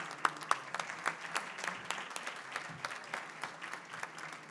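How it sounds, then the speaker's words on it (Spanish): Audience at a national regulatory science conference panel clapping, a short burst of scattered hand claps from a modest crowd that thins and fades over a few seconds, fairly quiet and distant. "Damos comienzo con un fuerte aplauso"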